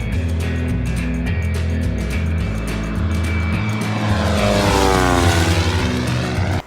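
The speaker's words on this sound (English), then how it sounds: "I hear an airplane." A propeller plane drones loudly and steadily overhead, its engine pitch shifting as it passes close by.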